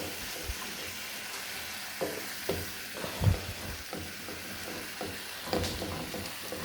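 Ground beef hamburger for sloppy joes frying in a pan, a soft steady sizzle underneath with a few scattered spatula knocks and scrapes, one louder clunk near the middle, no voices.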